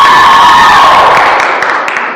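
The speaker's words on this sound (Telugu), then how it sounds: "Congratulations girls, come on clap." A studio crowd cheers and claps loudly for the winning girls' team at a televised game show, the sustained burst of applause and shouts slowly fading toward the end.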